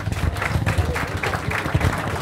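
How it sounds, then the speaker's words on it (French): Applause for the cultural counsellor of the Burkina Faso embassy at a Miss B launch event, a dense patter of hand clapping from an audience, moderately loud and continuous with faint voices mixed in. "je vous demande d'applaudir très très fort, s'il vous plaît, Madame Batrou"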